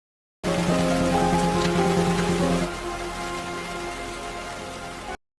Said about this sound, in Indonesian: Namun tidak lama hujan turun